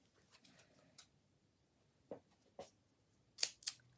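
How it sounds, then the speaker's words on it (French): Scissors snip paper while a handmade Mother's Day card is being made, giving a few short, crisp cuts spaced apart, with a quick pair of sharper snips near the end in a quiet room. "Les ciseaux."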